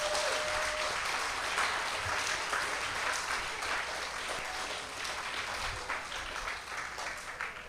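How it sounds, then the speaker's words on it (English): A crowd of adults and children at a UNICEF Wall of Promise unveiling on World Children's Day in Barbados gives a sustained round of applause, the steady clapping staying dense and even throughout before tapering slightly at the end. "give yourselves and give the children a massive round"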